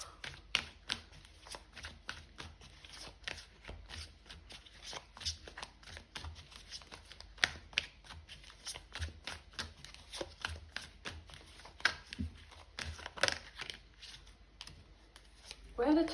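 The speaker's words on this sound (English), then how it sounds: "I'm gonna pull one more card" Tarot cards being shuffled and pulled in a card reading, a long run of crisp, rapid riffling flicks and soft card slaps, fairly close and quiet, with irregular bursts and pauses and no one talking.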